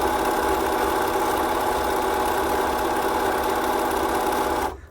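A sewing machine running steadily on a selected decorative stitch after a timing repair, a continuous loud mechanical whir with fast rhythmic needle chatter that stops abruptly near the end.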